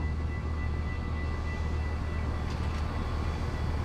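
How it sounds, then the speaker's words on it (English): A train passing a railroad crossing in American Truck Simulator, heard as a steady, loud rumble of rolling cars with a faint higher whine. No one talks. "Ooh, train crossing."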